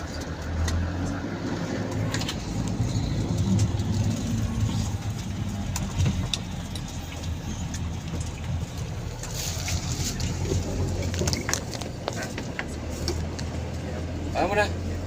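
A light car drives on a steep mountain road, its engine and tyres making a steady, muffled rumble with rattles and wind, while people talk over it.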